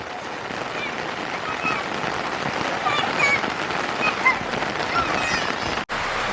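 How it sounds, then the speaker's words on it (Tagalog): Heavy rain falling in Abra, a dense continuous hiss of drops on surfaces, steady and loud, with faint voices and an occasional distant honk beneath it. "Ay po, grabe po yung ulan dito."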